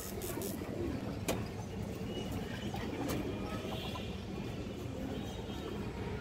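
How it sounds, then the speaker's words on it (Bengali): A female Bagha Khaki pigeon coos softly and repeatedly against a steady, noisy background with a few faint chirps. "একটা বাঘা খাকি মাদি কবুতর"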